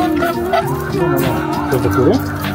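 Chickens clucking and squawking close by in a steady stream of fowl calls, with people talking over them.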